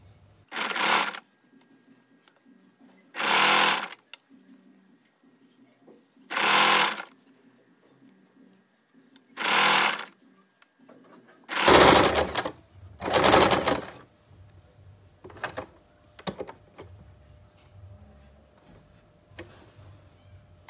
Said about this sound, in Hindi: और इस तरह से सिलाई को पक्का कर लेंगे।